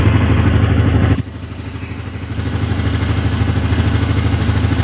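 A 2019 Yamaha Grizzly 700 ATV engine idles close by, a steady rhythmic low putter that drops briefly in level before settling back to an even idle.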